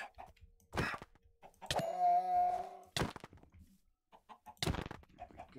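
Chicken clucks from the video game Minecraft, a few short bursts spaced apart with one longer warbling call in the middle, fairly close and clear with no talking.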